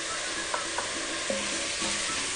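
Onions sizzle steadily in hot oil in a pan for chickpea stew, with a dense continuous frying hiss and a few light clinks of a utensil stirring.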